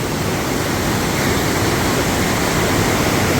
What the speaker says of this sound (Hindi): पानी का जल बहाव भी देख सकते हैं